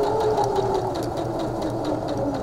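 A sewing machine stitches steadily through several layers of bias facing fabric, a close, continuous mechanical whir with fast rhythmic needle pulses throughout.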